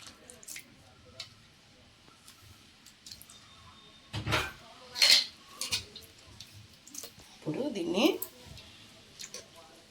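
Intermittent splashing, rubbing and clinking as a metal pot is rinsed and scrubbed, in scattered bursts between quieter moments, with someone speaking nearby.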